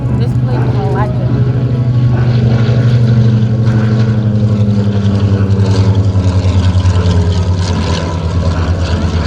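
An SB2C-5 Helldiver propeller plane drones past at the Geneseo air show with a steady, loud engine roar, while an announcer talks over it and crowd noise sits underneath.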